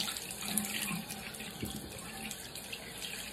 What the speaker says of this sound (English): get some warm water